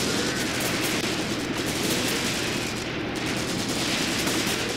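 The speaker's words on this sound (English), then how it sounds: "We still got some more artillery going up there." In the Graviteam Tactics war game, Soviet artillery and gunfire crackle in a dense, continuous barrage of overlapping shots and blasts, loud and unbroken, with no voices.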